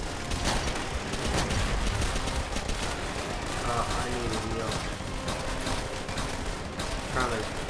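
Sustained machine gun fire and scattered gunshots in a World War II battle in Call of Duty: World at War, dense and continuous over a busy combat mix, with voices talking throughout.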